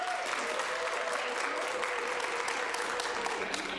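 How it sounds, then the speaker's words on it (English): A steady round of audience applause for the judges at a school Shark Tank finals event, continuous, fairly even clapping from a crowd throughout, heard at moderate distance. "if we could just give them a round of applause"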